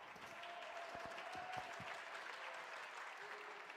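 Esports event crowd at a mobile battle royale final applauding, a steady wash of clapping and crowd noise that holds evenly throughout, with a few sharp thumps early on.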